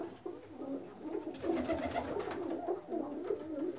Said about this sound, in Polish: takich właśnie gołąbków, jak tutaj widać na tej beczce